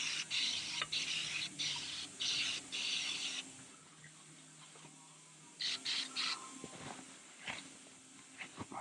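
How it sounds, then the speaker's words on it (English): Aerosol brake cleaner sprayed onto a KTM 450 RFS motorcycle engine, coming as a series of short hissing bursts, several quick sprays in a row, then a pause with light clatter and a few more bursts. "But I'm going to use a bunch of brake clean right now."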